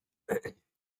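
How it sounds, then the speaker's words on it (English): A quick two-part throat clearing, short and fairly soft, alone against silence. "sorry I keep clearing my throat in your ear like that"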